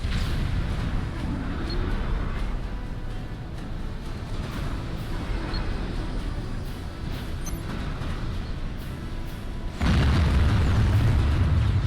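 A shield generator unit blows up in Supreme Commander, a loud sudden blast with a low rumbling tail, following a stretch of steady battle noise and scattered distant pops.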